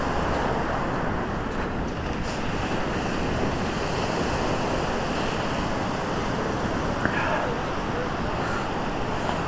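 Steady surf and wind roar on a Pacific wilderness beach near Destruction Island, a continuous broad wash with no clear breaks, close and fairly loud throughout.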